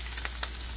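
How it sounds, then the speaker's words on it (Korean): An egg fries in a pan for bibimbap, giving a steady close sizzle with a couple of soft pops and no talking. "계란 후라이."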